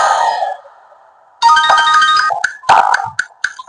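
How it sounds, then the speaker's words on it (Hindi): A mobile phone rings for an incoming call, loud and close: a sustained tonal chime fades into a brief gap, then a bright melodic ringtone with stepping notes and short repeated chirps, with no talk. "उसके मोबाइल पर विक्रम का फोन आया।"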